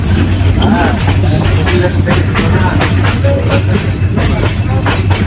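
The Bijoy Express passenger train, on the Jamalpur to Chittagong run, speeds toward Atkabari station with a loud, steady rumble and rhythmic wheel clatter heard from on board.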